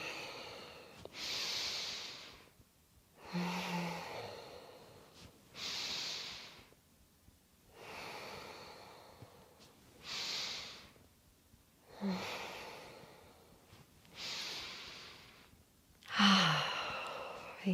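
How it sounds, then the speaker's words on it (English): Deep, strong yoga breathing during a crown chakra practice. Slow inhales and exhales come in a steady, regular rhythm of about eight close breaths, some ending in a soft nasal snort. "Deep, strong breaths, lovely."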